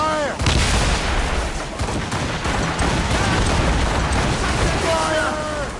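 Ship cannon fire in a naval battle in Assassin's Creed Rogue, heavy booming blasts over a dense, loud roar of battle noise. Crew voices shout beneath the barrage.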